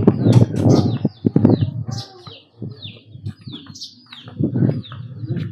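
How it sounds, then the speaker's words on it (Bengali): Various birds calling in the Kalimpong hills, with repeated chirps and short song phrases near and far, and some rustling and faint voices underneath. "নানান ধরনের পাখির আওয়াজ আছে।"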